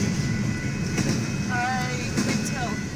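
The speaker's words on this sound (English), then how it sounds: "it was a Union Pacific freight train, that's all we know" A Union Pacific freight train passing through rural St. Elmo, Illinois: steady rolling rumble of railcars with intermittent metallic squeals and clanks, heard from nearby with people talking quietly.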